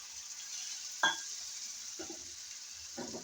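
Seekh kabab masala fries in a pan with a steady, quiet sizzle, broken by a sharp clink of a spoon against the pan and a few soft stirring scrapes.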